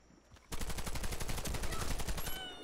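A rapid burst of automatic gunfire in the Warface shooter, a fast even string of shots lasting about two seconds, fairly close and loud after a brief quiet start.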